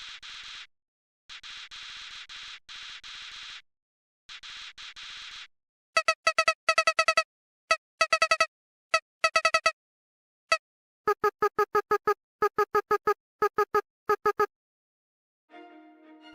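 Rapid bursts of Undertale's character speech blips in an angry or frightened mood, harsh staticky buzzes giving way to sharp, stuttering beeps in irregular clusters separated by short silences, loud and alone.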